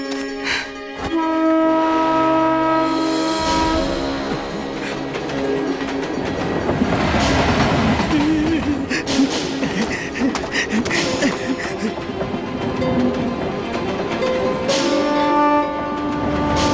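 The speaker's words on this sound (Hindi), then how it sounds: "ट्रेन चल पड़ी।" A train rumbles and clatters as it begins to move, with a sustained horn-like tone at the start and end and rising rolling noise in between, loud and close.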